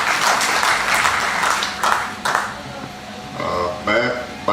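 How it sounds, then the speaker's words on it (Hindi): Audience applause at a Hindi kavi sammelan poetry gathering: a steady wash of clapping from a crowd fills the moment, with a couple of louder bursts and brief tonal pings near the end. "ताली बजा के स्वागत कर दीजिए।"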